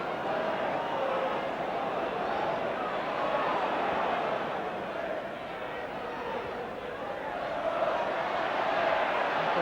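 Old Trafford football crowd in a Manchester United match, a broad continuous roar of cheering and chatter from a large stadium audience, steady and distant.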